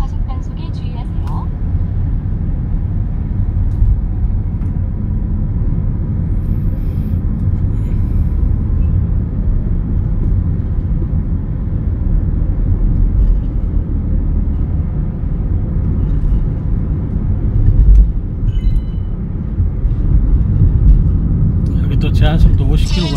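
A car on a road driving test course pulls away, its engine a steady low rumble with road noise that holds evenly throughout, under a constant background hum.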